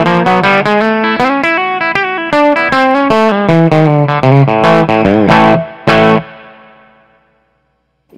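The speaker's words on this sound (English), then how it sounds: "you can use the RD2 on the normal channel as a clean boost" An electric guitar played through a DLS RD2 Reckless Drivery pedal used as a clean boost on the normal channel rips through a fast, loud lead phrase of rapid notes and bends, ending on a ringing note that fades out.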